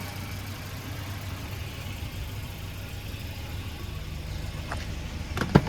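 A 1992 Volvo 240 with 480,000 km idles steadily, a low, even engine drone holding alone with a few faint clicks near the end.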